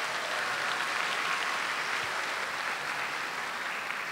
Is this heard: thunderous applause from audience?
yes